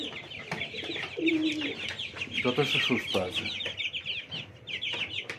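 Clucking from 20-day-old Tiger breed chickens, close by and steady for several seconds, with many overlapping calls and brief talk over the flock.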